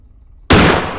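A single loud gunshot from a gun in the horror game Granny cracks out abruptly after near silence, followed by a short ringing decay.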